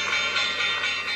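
A sustained ringing bell marks the Monday market opening, a steady bright tone held at moderate loudness for just over a second, with no talking.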